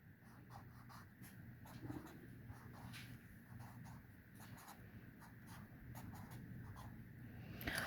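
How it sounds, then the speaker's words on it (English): A pencil scratches across paper as a name is written during handwriting practice, a soft, steady scratching with short strokes and brief pauses, faint and close over low room hum, with no talk. "Write your name with me."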